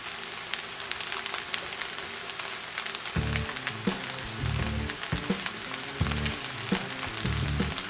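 Fried rice with beef and onions frying in a pan, a continuous crackling sizzle joined halfway by rhythmic, fairly loud scraping and tossing strokes of a spatula, no voices.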